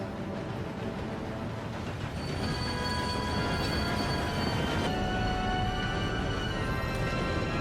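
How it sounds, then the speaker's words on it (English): Steam train in Red Dead Redemption 2 rolling in and braking to a halt, a steady loud rumble of railcars with high metallic wheel squeal rising midway and sustained to the end, no voices. "The train arrives, and Arthur, looking all badass and shit, manages to stop the train."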